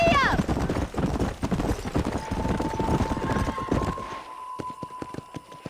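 Horses in the Red Dead Redemption video game gallop with a rapid, loud clatter of hoofbeats, along with a whinny, voices shouting and a sustained musical tone, before the hooves thin out to a sparse rhythm.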